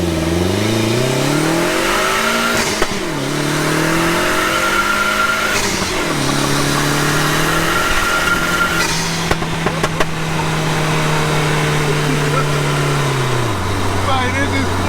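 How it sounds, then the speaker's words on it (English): A lightweight turbocharged 1.8T Triumph Spitfire, about 685 kg and 400 bhp, revs hard through the gears, each pull a rising engine whine cut by shift breaks, loud from inside the car with occasional talk over it. "You pull away in first gear, keep the revs up"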